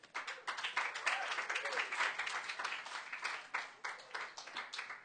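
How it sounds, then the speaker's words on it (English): An open mic audience at a coffeehouse breaks into applause, a room of hands clapping in a steady, moderately loud patter that swells and rolls on for several seconds, with a few voices mixed in. "Let's get a nice, warm round of applause for Ryan."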